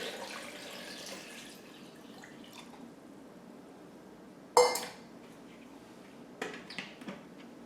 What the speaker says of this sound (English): I'm adding cold water.